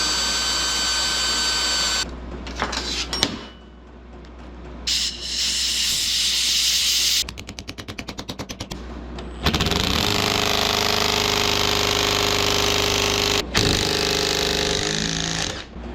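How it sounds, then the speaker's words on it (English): A brand new drill bit grinds against a very hard bolt while a Yanmar B27-2 final drive is taken apart, the loud whining, hissing drilling coming in long bursts with brief pauses and sputtering stretches between them. "Brand new drill bit is doing nothing to it."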